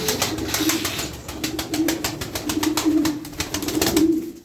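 A flock of about thirty pigeons coos continuously up close, layered throaty calls overlapping with soft wing flutters and scattered chirps throughout.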